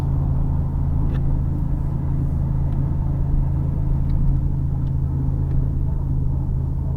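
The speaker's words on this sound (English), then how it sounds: "Now we'll go down the hill and see how the engine braking does" A Ford 7.3 Godzilla V8 pickup towing 6,500 lb engine-brakes down a curving mountain grade in fourth gear, around 3,200 RPM, producing a steady low drone and rumble from inside the cab with no talk.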